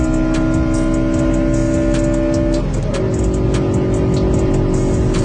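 Honda EM1 Civic Si with a 160-horsepower B16 VTEC engine and manual transmission, a loud sustained high-revving engine note that shifts pitch partway through, with no talking.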